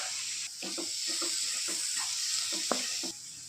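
Spices, tomato and coriander sautéing in a pan for an aubergine curry, with a steady close sizzle and repeated soft stirring scrapes throughout.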